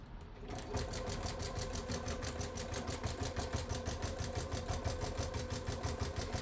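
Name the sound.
sewing machine stitching a bag gusset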